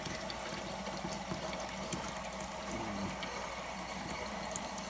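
Water pumped through a hose while draining a home water heater: a continuous, moderately quiet gurgling and rushing flow with small splashes and bubbling, steady throughout with no voices.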